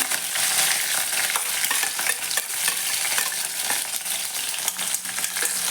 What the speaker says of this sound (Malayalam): അതുകൂടെ നമുക്ക് ചൂടായ വെളിച്ചെണ്ണയിലേക്കൊന്ന് ചേർത്ത് കൊടുക്കാം